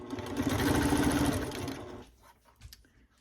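A sewing machine runs a quilt seam in one loud, steady buzzing burst of about two seconds, then stops, leaving faint handling noises.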